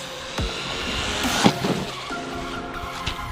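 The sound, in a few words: MJX Hyper Go 14210 RC car driving over a jump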